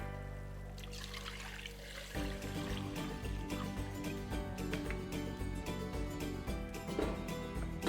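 Buffalo milk poured into a coconut mixture for white kurma, a continuous trickling pour that starts soft and turns fuller after a couple of seconds, close and steady throughout.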